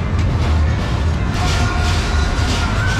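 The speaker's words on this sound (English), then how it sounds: "we've got the ghost train there" A fairground ghost train ride runs at a June funfair, a loud continuous rumble and rattle of cars on track, close by amid outdoor crowd noise.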